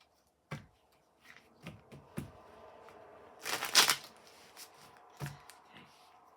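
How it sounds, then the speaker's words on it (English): A deck of tarot cards handled and shuffled by hand: scattered soft taps and flicks build to one quick riffle burst at close range, with a few light card taps after it and no talk. "One more shuffle on these."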